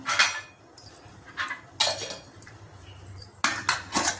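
Plastic and steel lids are pressed onto children's lunch boxes in a kitchen, making a series of irregular clacks and clinks, some sharp and close, with short scraping handling noises between them.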